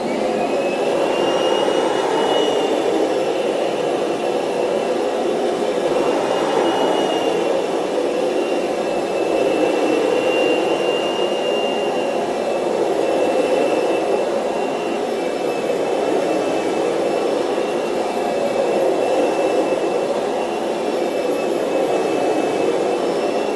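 A Kirby carpet shampooer runs steadily across carpet, a loud continuous whine with a high motor tone holding unbroken for over twenty seconds, no voices over it.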